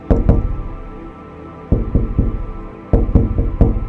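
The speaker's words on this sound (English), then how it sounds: "This time, the knocks had gone even louder." Knocking on a bedroom window at night: two sharp knocks, a pause, then two bursts of three loud, close raps, each set over a low rumbling background.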